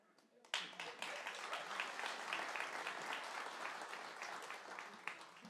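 An audience bursts into applause at a church talk, a dense steady clapping that starts abruptly, stays loud and fades slightly toward the end.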